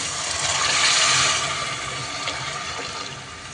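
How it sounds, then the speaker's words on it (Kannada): Water is poured into a pot of pearl millet khichdi, a close, gushing stream that swells quickly then settles into a softer trickle as the pot fills. "ಸಜ್ಜೆ ಮಿಕ್ಸ್ ಆದಮೇಲೆ ನೀರು ಹಾಕೊಬೇಕಿಲ್ಲಿ"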